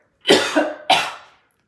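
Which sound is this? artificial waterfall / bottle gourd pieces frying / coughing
coughing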